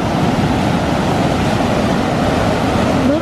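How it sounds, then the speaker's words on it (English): Rushing floodwater pours through a flooded creek at night during Pilbara flash flooding, a loud, steady broadband roar close by that continues without a break. "I've never seen this creek flood so much."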